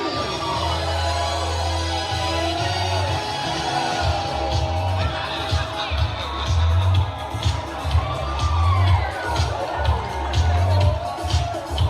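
A crowd at the Ocean Park Halloween Day of the Dead carnival show cheers and screams under a loud amplified host and pounding music, a dense continuous roar of voices throughout.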